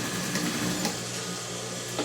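Sewing machine running steadily while stitching fabric along a straight seam, a continuous close mechanical whir with faint clicks, no talk.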